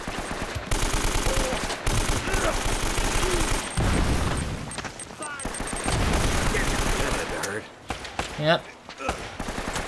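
Rapid gunfire rattles in sustained bursts during an Uncharted: Drake's Fortune firefight, loud and close, with a player briefly speaking over the shots.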